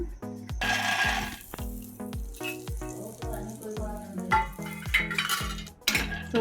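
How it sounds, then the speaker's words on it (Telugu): Peanuts roasting in a pan for Rayalaseema-style peanut chutney, with repeated close metallic scraping and clinking of a utensil stirring them against the pan over a soft background sizzle, and a voice talking at times. "ముందుగా అయితే పల్లీలు అయితే మంచిగా వేయించుకున్నాము."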